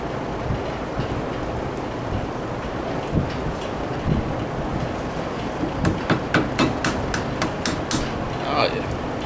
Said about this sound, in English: I'm gonna go ahead and try to punch this bushing out